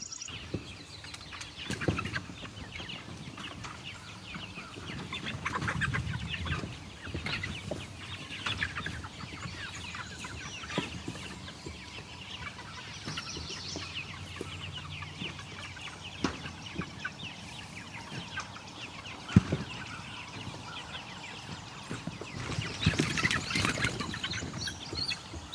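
Meat chickens cluck and call steadily on open pasture at an off-grid homestead, a loose chorus of birds close by with scattered louder squawks and no talking.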